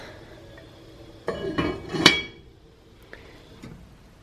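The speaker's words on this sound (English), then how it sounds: "So let's put a lid on this girl." A metal lid is set onto a cooking pot in a home kitchen: a few clanks and clinks close by, with one sharp ringing clatter in the middle, and a couple of softer taps afterward.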